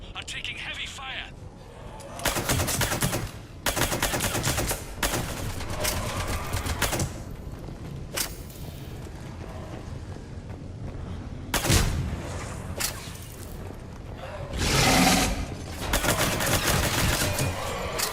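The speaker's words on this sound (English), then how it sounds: "Foxtrot and Bravo are taking heavy fire." Heavy gunfire in a Mass Effect 3 battle: dense bursts of loud shots in clusters, dropping away at moments and then returning, with chatter and game noise mixed in.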